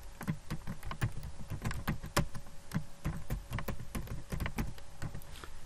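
Rapid keystrokes on a computer keyboard while entering a title in Microsoft Access, a dense run of close, crisp clicks with no talking.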